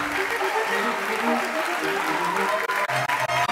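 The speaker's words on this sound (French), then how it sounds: "On l'applaudit." Audience applause at a national final for a jury prize, sustained clapping from a crowd mixed with music-like tones and some voices, loud and continuous.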